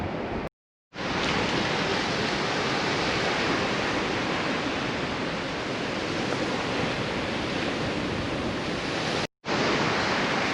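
Waves washing onto a beach, a steady, dense broadband roar with no distinct breaks, broken by two brief cuts to silence, no voices.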